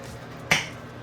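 A fresh peanut butter jar's seal gives one sharp, crisp pop up close, standing alone against a quiet background.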